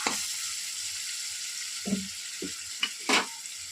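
Vegetable gravy pasta with tomato ketchup is stirred gently in a hot pan, giving a soft steady sizzle broken by a few scraping clinks of the spoon.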